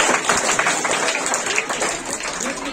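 Audience applause for a prize winner at a school event, dense and steady clapping filling the whole stretch at close range, with some crowd noise mixed in.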